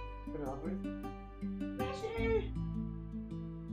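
A cat meows a few times indoors, soft short calls over a steady electronic hum with a person talking nearby.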